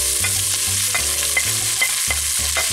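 Sliced onion goes into garlic frying in hot oil in a pan, a steady loud sizzle broken by regular scraping and stirring strokes, with no voices.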